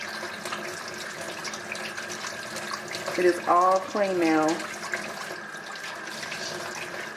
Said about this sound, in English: I'm going to put some hot water on because that water is super cold.